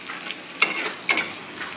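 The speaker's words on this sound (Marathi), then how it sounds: "तोंडले फ्राय करून घेते." Ivy gourd frying in oil in a pan, giving a soft, close sizzle with two brief bursts of crackle, probably from stirring, and no voices.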